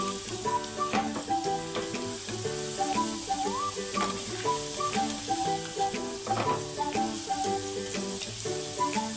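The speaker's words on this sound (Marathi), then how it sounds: "आता आपण आहे ना हे सगळे बटाटे फ्राय करून घेऊयात।" Potatoes frying in a pan for dum aloo, a steady, even sizzle running throughout, with light clinks and stirring accents over music-like tonal background.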